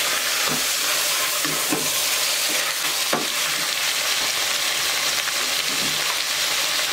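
A garlic clove fries in a pan and is stirred, giving a continuous, dense sizzling hiss with soft scraping taps from stirring scattered throughout.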